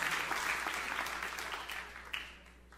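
Church congregation applauding during a pastor's sermon, a broad wash of clapping at moderate distance that gradually thins and fades over a couple of seconds, with one sharper clap near the end.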